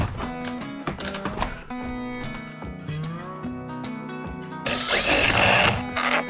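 A power drill drives screws into a salvaged vinyl replacement window set in a chicken house frame, a loud buzzing burst close by near the end over steady background music.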